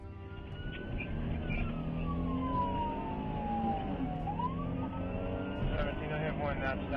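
A police car siren sweeps slowly downward then rises again under continuous road noise and talking, with faint extra siren chirps near the end.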